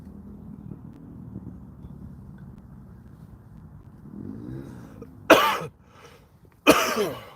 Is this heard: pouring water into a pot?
no